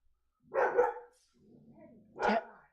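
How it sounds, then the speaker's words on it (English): A dog barks in two short, loud bursts separated by a quieter low growl, heard alone indoors with no talking. "we don't know what he's barking at or why he's barking, but he barking."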